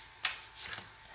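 Tarot cards are shuffled in a few quick, faint riffling bursts, one sharp flick followed by a softer ripple, close by in a quiet room.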